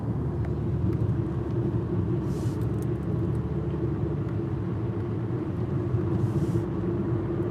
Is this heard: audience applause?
no